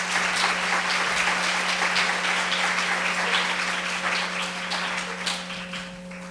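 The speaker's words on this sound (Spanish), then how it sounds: "Un aplauso, por favor." An audience at a journalism conference session at Universidad Latina in San Pedro applauds, a dense, steady burst of many hands clapping that slowly tapers off.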